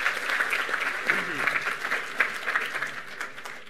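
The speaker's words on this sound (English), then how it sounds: "If we can give him a round of applause." Convention crowd claps in steady applause, many hands close and bright with a few sharper individual claps, while a voice briefly speaks underneath partway through.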